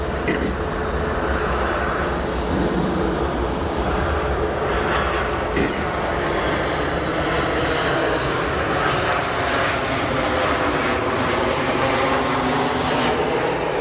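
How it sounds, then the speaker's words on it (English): An American Airlines Boeing 737 jet arriving at Chicago O'Hare airport produces a loud, steady, broadband engine roar that holds almost unchanged throughout. "Next arrival, we have an American Airlines 737."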